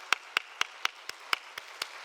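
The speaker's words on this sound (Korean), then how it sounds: "우리 박수로 환영하겠습니다" A church congregation claps to welcome a pastor at a Wednesday evening teachers' dedication service, with sharp claps landing in a steady, evenly spaced rhythm, fairly close and without talk.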